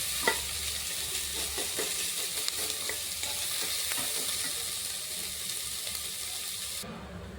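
Green chillies fry in a pan with a steady, close sizzle and occasional stirring scrapes and clinks, fairly quiet and continuous.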